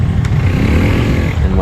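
Motorcycle engine revving nearby, a loud, steady low rumble that holds throughout the short moment without clear pauses.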